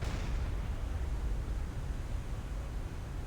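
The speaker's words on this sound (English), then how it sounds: "Keep your firing up, lads." A submarine deck gun firing in Silent Hunter 5 at sea, heard as a dense, sustained roaring boom and rumble with a rough, noisy wash throughout and no distinct separate shots.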